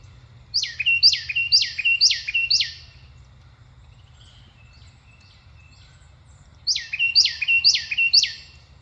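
Distant bird calls in two bursts: a run of five rapid, repeated chirping notes, a pause, then four more, over a low steady rumble at an outdoor 4x4 campsite in Sleepy Hollow.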